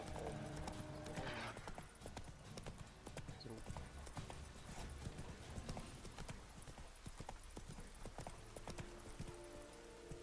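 Hooves of Geralt's horse Roach in The Witcher 3: Wild Hunt clatter in a steady, loud galloping clip-clop rhythm throughout, with a brief whinny and game music and ambience underneath.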